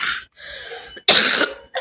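A woman coughs up close while cooking kadhi in a kitchen, a quick series of harsh coughs and throat clears, with a burst in the middle and a short one at the end.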